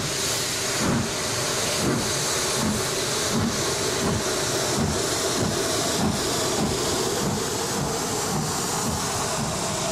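An LNER steam locomotive on the East Somerset Railway chuffs along in a loud, steady rhythm, regular exhaust beats over a continuous roar of steam hiss and rumble, close by throughout.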